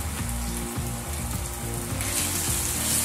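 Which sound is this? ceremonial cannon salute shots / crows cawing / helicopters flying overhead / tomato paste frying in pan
tomato paste frying in pan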